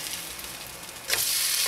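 Pork burger patty sizzling in a pan, a steady crackle that jumps louder partway through as the patty is flipped and settles back into a bright, continuous fry.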